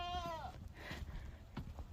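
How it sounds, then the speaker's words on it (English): A sheep bleats loudly up close on a farm in the morning, one wavering call followed by steady rustling, shuffling and faint livestock movement in the background. "So let's look at my sheep this morning."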